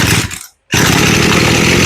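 A Poulan Pro chainsaw with a newly replaced carburetor, already warmed up, catches on a pull-start and roars loud and close, a brief rough burst cutting out for a moment before the engine picks up again at a steady, full drone.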